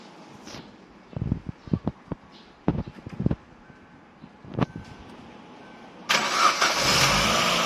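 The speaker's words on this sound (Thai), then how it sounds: "เราก็จะทำการเข้าไปสตาร์ทเครื่องยนต์ก่อนนะครับ" A Chevrolet Aveo engine cranks with a series of sharp clicks and bursts, then catches and settles into a loud, steady running roar near the end.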